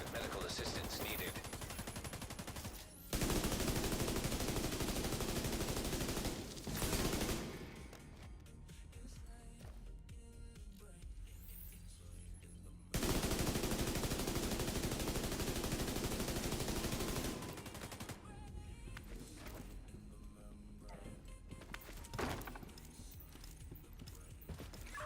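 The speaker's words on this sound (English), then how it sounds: "Was that gunfire?" Video game gunfire in a tactical shooter, dense bursts of rapid shots and loud blasts that alternate with quieter stretches of rattling and distant shooting, sometimes under game voices.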